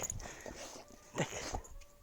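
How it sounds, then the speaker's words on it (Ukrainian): A young dog whimpers and yips softly, a few faint, brief high whines close by in a quiet room. "Ай ти мій хороший песик."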